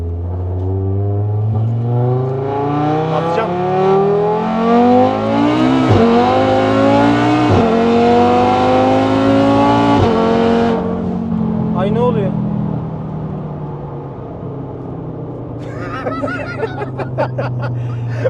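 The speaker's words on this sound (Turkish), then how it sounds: "Bu arada ben ilk kez alüminyum egzozlu bir arabaya biniyorum. Sesi gerçekten acayipmiş arkadaşlar." A 1300 hp Audi TT RS with an aluminium exhaust accelerating hard from inside the car, its engine note climbing through several gear changes with sharp shifts, loud and close, while occupants talk and laugh over it.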